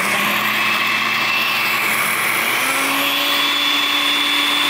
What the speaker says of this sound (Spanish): Y ahora sí, a licuar todos nuestros ingredientes.